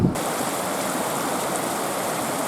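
Upson Falls waterfall at a county park campground, a steady, loud, close rushing of falling water that holds unbroken throughout, with no voices.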